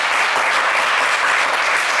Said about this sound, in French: On va les applaudir très